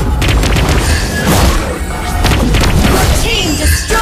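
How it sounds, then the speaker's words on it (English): Turret destruction in the mobile battle game Mobile Legends, a loud blast with crashing impacts layered over dense in-game effects and music, with a voice in the mix. "Your team destroyed a turret."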